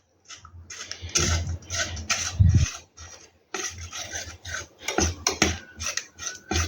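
Stirring a thick bread sweet mixture in a pan over medium heat: repeated scraping and rasping strokes of a utensil against the pan, close and irregular, with brief pauses between bursts.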